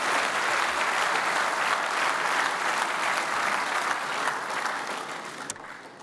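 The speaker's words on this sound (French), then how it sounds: "Mais on peut les applaudir aussi quand même par avance." A large congress audience at a trade union gathering applauds the union team, a dense, steady roar of clapping that fades slightly toward the end, with no talk over it.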